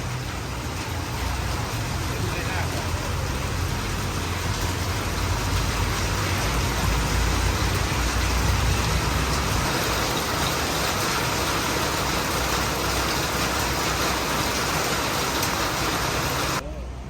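Steady rain during a motorbike ride in Thailand toward Pattaya, a loud continuous wash of rain and wind noise mixed with engine rumble throughout, with no clear break.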